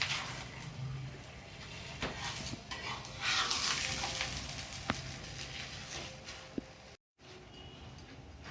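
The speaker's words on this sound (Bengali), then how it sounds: "এরকম করে আমি সব পরোটা ভেজে নেবো।" A chana dal paratha fries in a pan, with a steady broadband sizzle throughout, a few clinks of a spatula or utensil against the pan, and a brief cut in the sound near the end; there is no talk.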